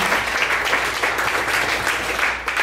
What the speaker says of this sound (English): Give her a warm welcome by standing up and giving a round of applause